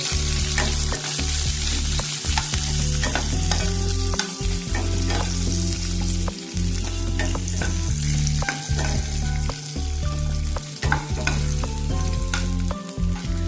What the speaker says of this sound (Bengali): এই পেঁয়াজগুলো আমি দিয়ে দিলাম আর সাথে এই ক্যাপসিকামটাও আমি দিয়ে দিলাম এটা দিয়ে একটু নেড়ে